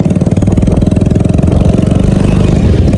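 A Hero Honda HF Deluxe motorcycle engine runs close by with a loud, steady, rapid pulsing throb and no pauses.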